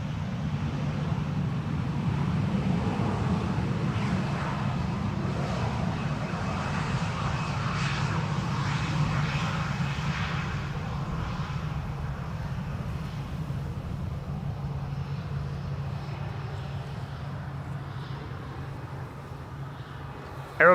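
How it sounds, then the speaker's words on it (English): An Aeromexico airliner arriving from Mexico City approaches runway 18R Polderbaan at Amsterdam Schiphol under gusty conditions, its engines a steady, distant roar heard outdoors that holds evenly before tapering slightly near the end. "Aero Mexico flight 25 arriving from Mexico City."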